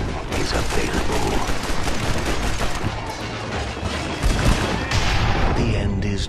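Shotgun slug gunfire in the Red Dead Redemption Undead Nightmare video game, heard as dense, continuous shooting and blasts mixed with game sounds, with a voice talking over it.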